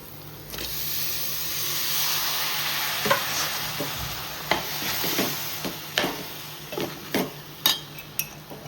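Basmati rice is tipped into a pan of sizzling chicken biryani masala and stirred, with a steady frying hiss and a run of scraping, clinking spoon-against-pan strokes that grow more frequent toward the end.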